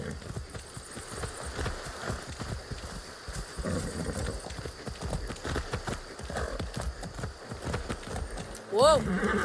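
Horse hooves clip-clop at a walking pace while a character rides through Far Cry 6, a rhythmic thudding under nearly continuous dialogue, with a short rising electronic tone near the end.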